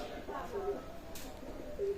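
A Pakistani Teddy pigeon of the Mian Nazir line gives two short, soft coos, faint against a low background hum.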